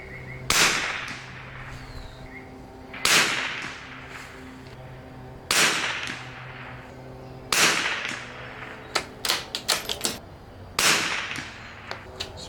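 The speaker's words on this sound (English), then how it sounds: "So here's going to be a 5-shot group of Standard Plus SK." A Springfield 2020RF rifle firing Standard Plus SK ammunition gives five sharp, loud cracks spaced a couple of seconds apart, each with a short echo, with a few lighter clicks between the later shots.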